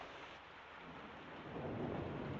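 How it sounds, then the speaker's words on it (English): Storm sound effect from the 1946 film Shock, with a steady hiss of heavy rain and a low thunder rumble that swells louder in the second half, no voices. "And poor Edward's storms don't do him any good."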